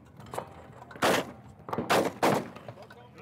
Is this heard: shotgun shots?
yes